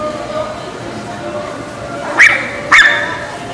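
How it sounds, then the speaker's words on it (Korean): A dog at a traditional market stall lets out two sharp, loud barks in quick succession near the end, over a low murmur of market background noise. "역시 멍멍이도 가게를 보러 나왔구만"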